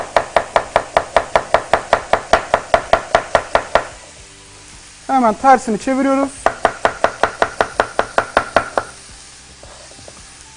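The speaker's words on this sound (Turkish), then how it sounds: "Jülyen doğrayalım" A knife julienne-chops onion steadily on a cutting board in quick, evenly spaced strokes, pauses while a person speaks briefly, then resumes the same rapid rhythm.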